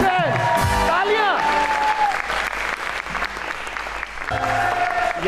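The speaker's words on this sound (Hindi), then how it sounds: "so thank you Yasir Hussain, तालियां" Studio audience at a Pakistani talk show applauds loudly and steadily for a guest, with the host's voice and musical stings sounding over the clapping.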